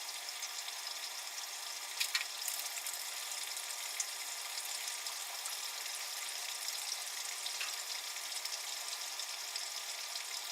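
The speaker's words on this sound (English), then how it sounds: "the dry ice, which is solid CO2, is added into the water" Dry ice, solid carbon dioxide, is dropped into water and fizzes with a steady, soft hiss of bubbling, a few faint pops standing out against the continuous sizzle.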